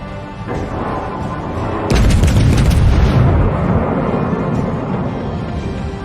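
A battleship blows up in a space combat game: a sudden loud, deep boom hits about two seconds in and rolls into a long rumbling roar over steady background engine noise.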